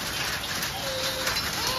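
Heavy hailstorm with hail and rain pounding down in Pandharpur, a dense, steady hiss and patter of hitting drops that stays loud and even throughout, with no voices.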